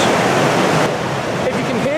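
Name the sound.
river water flowing over rocks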